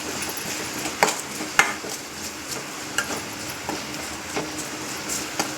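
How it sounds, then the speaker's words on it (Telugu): Salt and masala fry and get stirred in a pan for a mushroom curry, a steady soft sizzle broken by repeated metallic scrapes and clinks of a spoon against the pan, close and with no talking. "కొద్దిగా ఉప్పు, మసాలా పచ్చివాసన పోయేంత వరకు వేయించుకోండి ఫ్రెండ్స్"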